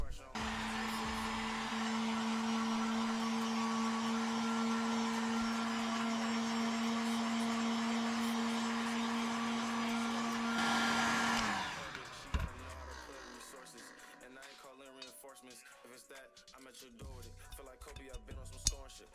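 A heat gun blows with a steady, loud whirring hiss as it warms a cleaned engine crankcase for a Daytona Anima before the bearings go in. It cuts off after about eleven seconds, leaving light clinks and handling noises.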